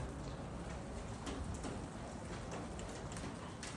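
Rain from a thunderstorm in Lubbock patters steadily on house gutters, a faint continuous wash with scattered sharper drop hits, no voices.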